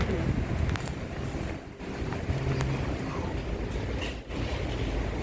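A Washington Metro Blue Line train rumbles and hisses at a station, with a brief low tone and a couple of dips in the noise; a voice speaks over it.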